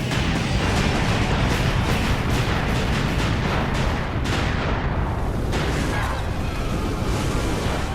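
A continuous, loud roar of explosions and rumbling blasts fills the scene as an island blows up in a Sonic video game, dense and unbroken throughout with no clear pauses.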